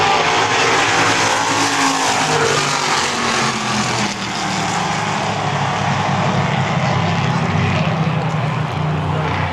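A pack of race cars roars off at the start of a trophy dash, engines blending into a loud, continuous, far-carrying drone that stays steady throughout.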